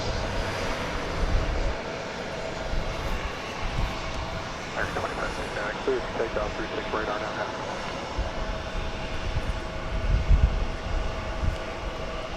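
A Boeing 737-800 jet rolls for departure at DFW Airport, its engine roar steady and somewhat distant, with someone talking over it.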